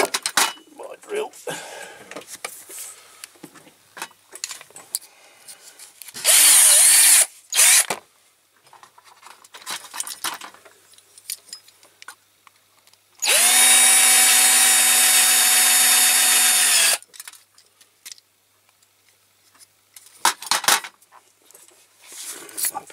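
A power drill bores out a rivet on a Corgi Faun AK435 road sweeper model restoration in two loud whining bursts, with clinks of small tools and handling noises between them.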